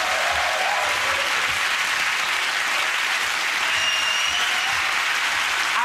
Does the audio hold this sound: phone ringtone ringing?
no